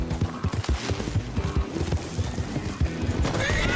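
Horse hooves pound rhythmically in Red Dead Online, a rapid galloping clip-clop that stays close and loud throughout, with sharp game sounds mixed in.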